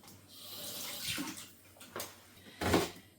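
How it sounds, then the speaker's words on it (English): Running water splashes from a tap as an onion is rinsed under it, a steady rush with a few louder surges, close and fairly quiet, no talking. "A little tip, if you rinse it under water,"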